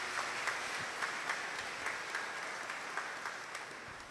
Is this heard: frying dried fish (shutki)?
no